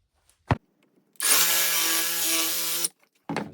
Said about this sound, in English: I'll grab my jigsaw, I'll go ahead and I'll do something kind of like that